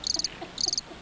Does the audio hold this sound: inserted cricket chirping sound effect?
yes